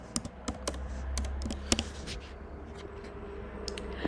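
Keystrokes on a computer keyboard as a short image-editing prompt is typed, a quick irregular run of soft clicks with a few louder taps, close and alone.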